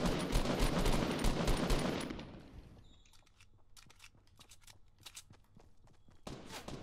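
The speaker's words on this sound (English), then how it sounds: "I'm getting shot at, but I don't know where." Dense in-game gunfire roars loudly at first, then fades into scattered distant shots and sharp cracks from another player, irregular and spaced out, with a brief loud burst returning at the end.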